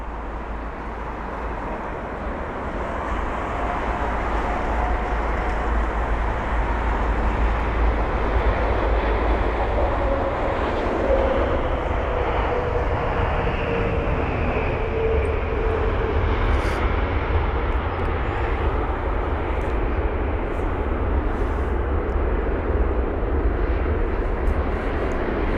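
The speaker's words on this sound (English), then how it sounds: "And that was the Airbus A380" An Airbus A380 landing at London Heathrow, a broad, steady jet roar that swells slightly and holds for the whole stretch, heard from outside at a distance with no talk.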